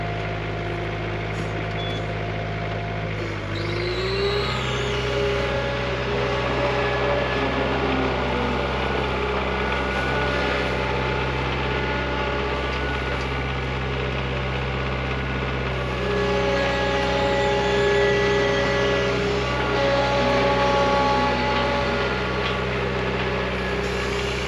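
Skid loader engine running steadily at close range while dumping a load of garlic stems over a trailer, with a deep constant drone and a few brief beeps and tonal shifts over about 25 seconds.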